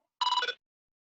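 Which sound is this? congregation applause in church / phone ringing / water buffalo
phone ringing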